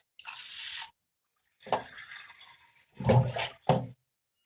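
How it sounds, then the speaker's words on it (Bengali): Water is poured cup by cup into a pot of rice in several separate bursts, each a close splashing gush that stops short before the next, with quiet gaps between them. "ছ কাপ জল দেবো ছ জলটা দিয়ে আসছি তোমরা দেখো"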